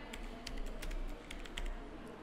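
Product name being typed on a computer keyboard into retail billing software: a steady run of close, light key clicks with no talking.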